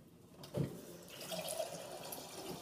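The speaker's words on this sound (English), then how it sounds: "Getting some water." Water runs from a tap indoors in a steady, moderately loud stream after a brief clunk as it starts.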